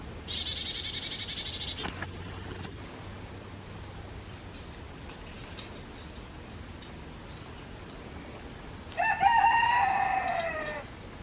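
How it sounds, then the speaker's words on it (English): A rooster crows twice, once at the start and again near the end, somewhat distant over a quiet outdoor hum. "a rooster crowing"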